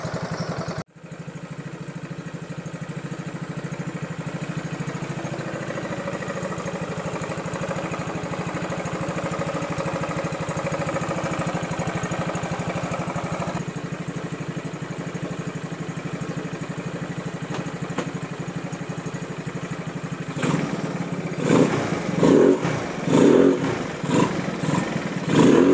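A motorcycle fitted with a Sun Silent Killer exhaust pipe idles with a steady, subdued rumble, then revs in several sharp, louder bursts near the end.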